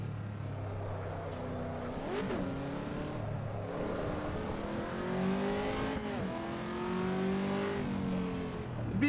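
A car in the racing game Assetto Corsa Evo revs and shifts through gears, its engine note climbing and dropping repeatedly with a grunting, throaty tone and brief tire noise, loud and continuous.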